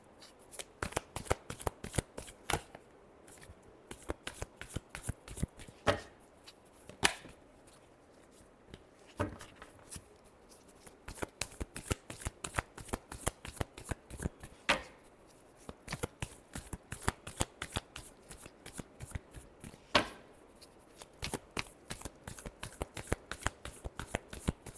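Tarot cards being shuffled by hand, long runs of rapid riffling flicks and slaps in bursts with short pauses, close and crisp in a quiet room with no talking.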